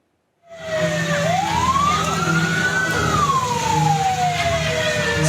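A fire truck siren wails at a burning scrap stall in Sukmajaya, Depok, West Java, rising and falling in one long, loud, close sweep with traffic rumbling beneath.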